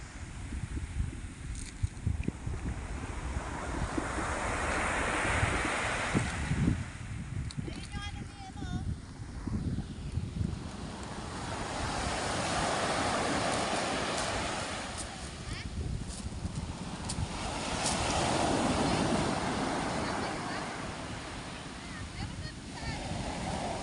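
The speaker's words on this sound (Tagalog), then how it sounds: "Malalaki ang alon guys." Ocean waves surge and crash in repeated swells, loud and roaring, mixed with wind buffeting and occasional voices.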